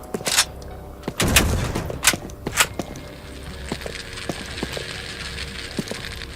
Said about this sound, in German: Eine Granate, bitteschön.